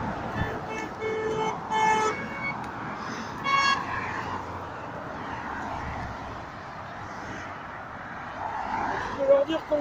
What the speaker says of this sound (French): on nous klaxonne de partout.